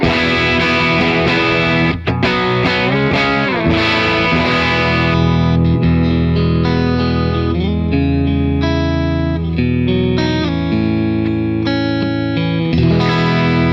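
An electric guitar played through the boosted clean channel of a PRS MT 15 amp, bright and slightly driven, ringing chords and single notes with reverb, loud and continuous.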